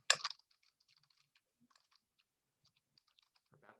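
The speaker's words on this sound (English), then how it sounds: "so over here now let's type in Elizabeth Babcock" Soft, sparse keystrokes on a computer keyboard while a name is entered into a search form. A brief louder clatter opens the sequence, then scattered faint taps follow in a quiet room.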